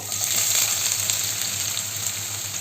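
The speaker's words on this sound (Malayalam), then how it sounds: "ഇതും ഒന്ന് വറുത്ത് കോരി നമുക്ക് എടുക്കാം" Hot oil sizzles and crackles continuously, a steady bright hiss of food deep frying close by for Kerala-style chicken biryani, with no talking.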